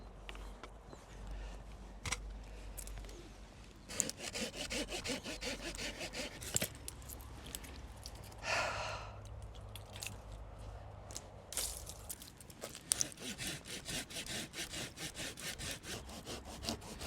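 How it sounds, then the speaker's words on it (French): A small hand saw cuts through rose bush stems at the base, giving repeated rasping back-and-forth strokes in bursts with brief pauses, close and fairly loud, with faint woody creaks and no talking. "je me sers de cette petite scie"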